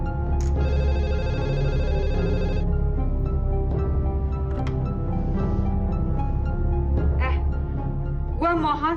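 A telephone rings with a rapid repeating electronic trill for a couple of seconds, amid loud dramatic background music and sound effects, with a few later shorter tones.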